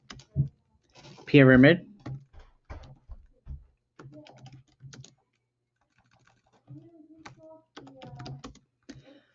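Clicks from a computer keyboard come in scattered short bursts, close and crisp, interleaved with a person speaking in a quiet room.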